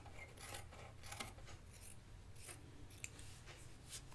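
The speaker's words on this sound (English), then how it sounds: "I'm just going to trim off a little bit right here." Close, soft scissor cuts trim the edge of dress fabric, a few quiet rasping snips against a low steady background hum, with no talking.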